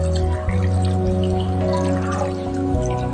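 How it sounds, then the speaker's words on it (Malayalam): Water is poured into a pot of green gram curry, giving a steady close liquid stream with gurgling splashes, set against a constant low humming tone from the kitchen. "ഇനി നമുക്ക് അതിലേക്ക് കുറച്ച് വെള്ളവും കൂടെ ഒഴിച്ച് കൊടുക്കാം"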